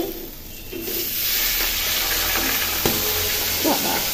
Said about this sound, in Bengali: মাছ ভাজা শুরু হয়ে গেছে।